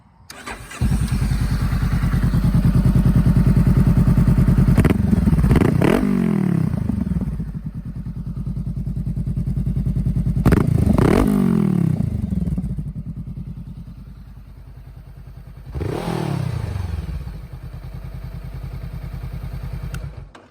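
Motorcycle with the exhaust baffle removed, revving hard in three loud bursts that rise and fall back to a deep, open, throbbing idle between them, close and alone.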